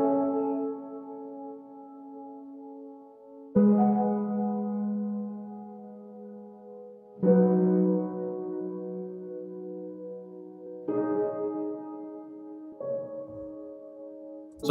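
Processed piano pitched up an octave for a drumless R&B track, slow sustained chords struck every few seconds and left ringing, soft and alone.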